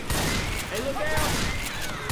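Gunfire erupts in the zombie shooter Left 4 Dead 2, a dense fusillade of shots in a short burst with game sounds and voices mixed in.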